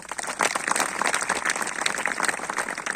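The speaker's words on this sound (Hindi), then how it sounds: "एक बार अपने लिए ताली बजा दीजिए" A crowd applauds steadily, dense clapping spread evenly across the whole stretch, moderately loud and without speech.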